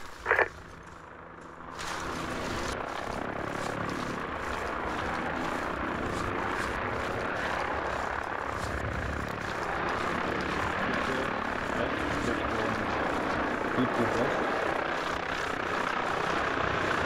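Helicopter flying nearby with a loud, continuous rotor and engine roar that holds steady throughout, after a brief quieter opening and a short knock at the start.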